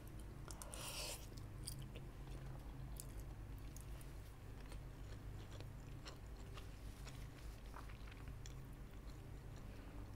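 Close, faint chewing and soft biting of noodles runs steadily through the stretch, with occasional small crunchy and wet mouth sounds over a low background hum.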